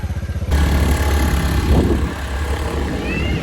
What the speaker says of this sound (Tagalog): paayos muna namin motor ni Britney dahil flat.